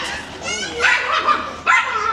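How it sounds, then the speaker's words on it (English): A small yappy dog lets out quick high-pitched yips and barks in short bursts, close and sharp, with a person's voice talking underneath. "That's the yappiest dog I've ever seen"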